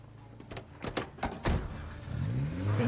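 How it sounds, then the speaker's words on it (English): A car in the Project Zomboid video game: a few sharp door and handle clunks, then an engine starting and rising to a steady, building hum. "get in this car and drive off"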